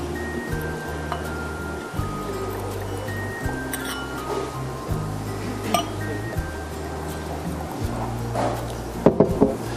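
Wine glasses clink and chime as Pinot Noir is served, several light clinks scattered over a low background hum, with a brighter cluster of glassy taps near the end; no talk.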